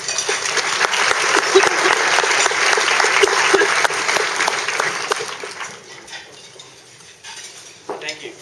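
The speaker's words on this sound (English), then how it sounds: "So help me give a warm round of applause and a welcome to Dan Siroker." An audience welcomes speaker Dan Siroker with loud, sustained applause that fades over several seconds, leaving scattered claps and faint room noise behind.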